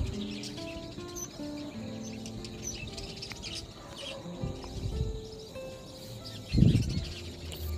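Budgerigar colony in a breeding setup with clay nest pots holding eggs and chicks, giving a steady mesh of small chirps and tweets throughout, with a louder burst of calls near the end.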